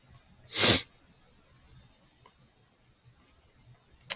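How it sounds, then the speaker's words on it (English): A single sharp sniff into a microphone from someone with allergies lands near the start, loud and close, followed by quiet low background and a brief click at the end. "Sorry if I'm sniffing into the mic here."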